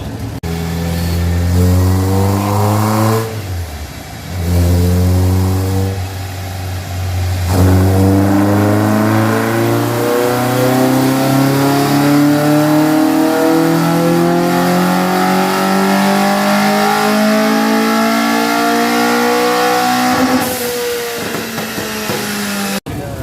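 A VW 2276cc engine revving on a dyno at an EMPI open house: a loud, close engine repeatedly climbs through long rising pulls with brief drops between them, droning steadily throughout.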